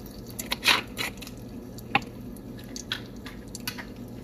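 Spices of asafoetida, dried chilli and fennel sizzle in hot white oil in a pressure cooker over high flame, giving scattered sharp pops and spitting crackles over a low background hiss, close by.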